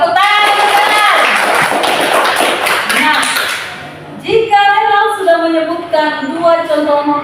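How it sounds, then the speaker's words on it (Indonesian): Schoolchildren in a classroom clap their hands together, a loud burst of clapping with voices, then fading as children chant and talk over the tail end. "Tepuk tangan, tepuk tangan."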